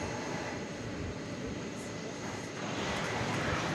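A jet airplane at DFW Airport taxis toward the east side for takeoff at night, giving a steady broad engine roar heard from a distance that grows slightly louder near the end.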